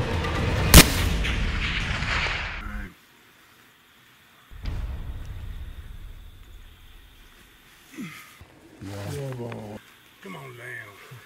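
A single rifle shot at a red stag during a hunt cracks sharply and loudly near the start. Quieter stretches, rustling and people talking outdoors follow.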